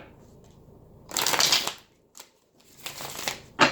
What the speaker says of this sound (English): so I'm just going to do a quick shuffle here